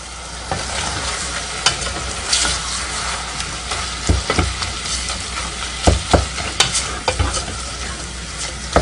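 Chili meat browns in a pan with a steady, close sizzle, broken by sharp scrapes and clacks as it gets stirred now and then.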